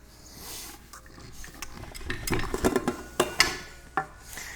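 Kneaded pretzel dough is pulled off a stand mixer's dough hook, giving a string of close clanks and scrapes of metal against the bowl that grow sharper and more frequent toward the end.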